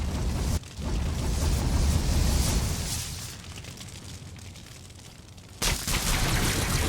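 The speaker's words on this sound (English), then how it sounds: "Yeah, fireworks, baby." Fireworks in the video game Valheim burst and crackle in a loud dense barrage, fading to a softer rumble before a fresh burst flares up near the end.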